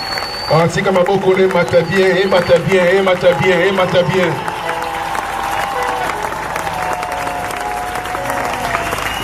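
Church congregation applauding and cheering in praise of Jesus, a loud sustained crowd roar mixed with music and voices, strong for the first four seconds then settling into steadier clapping and cheering.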